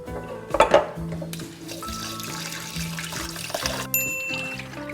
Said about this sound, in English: Just gently pour out the water like this.